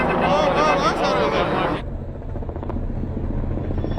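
Police helicopter rotor noise, loud and close at first with dense chopping texture, then cut abruptly to a quieter distant hum about halfway through, while people talk over it.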